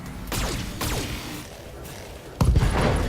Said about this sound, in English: We're just going to shoot him right in the butt.